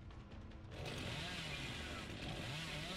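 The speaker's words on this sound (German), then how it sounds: "Irgendwie ist die Kettensäge nicht ganz so geil." A chainsaw revs and cuts in the video game Dead by Daylight, a loud, continuous buzzing engine whine with a wavering pitch that rises in intensity after a moment, with faint voices underneath.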